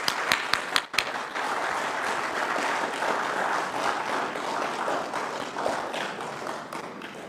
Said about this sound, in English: Please give a round of applause to those who have worked very hard.